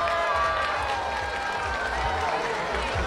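Outdoor crowd at the Malka Bogoroditsa town festival in Simitli applauding a singer, a dense, continuous wash of clapping with a voice talking over it.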